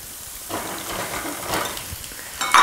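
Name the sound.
crookneck and zucchini squash sizzling in olive oil in a saute pan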